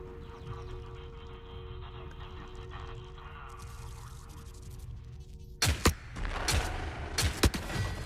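A grenade detonates in the video game Forever Winter, bursting out of a steady low hum of game ambience as a sharp, loud blast followed by several more booming impacts and crackling shots in quick succession.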